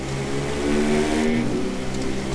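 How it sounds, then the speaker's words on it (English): A loud car engine in The Crew 2 racing game revs and drones close by, with steady tonal engine hum rising and shifting in pitch over a couple of seconds. "It sounds like a really loud car"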